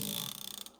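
Ko-ken ratchet with a hex swivel freewheeling under a light push, giving a fast, even run of fine metallic pawl clicks up close that slow slightly and stop abruptly.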